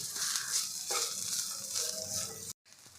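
Sweet corn kernels sauté in a hot pan with a steady, soft sizzle and crackle throughout, briefly cutting out near the end before resuming faintly.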